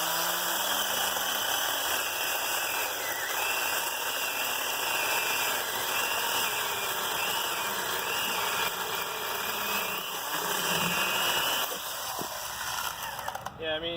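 A battery-powered Worx chainsaw running off a portable power station holds a steady, continuous motor whine with mechanical rattle for the full stretch, fairly loud and close, with a few brief clunks near the end.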